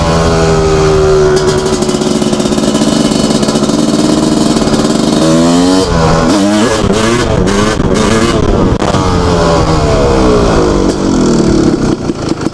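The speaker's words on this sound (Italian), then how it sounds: "però veramente sgasa un sacco" A loud Yamaha YZ 250 two-stroke dirt bike engine revs hard and continuously, pitch rising and falling through quick gear changes, close to the listener with no talking.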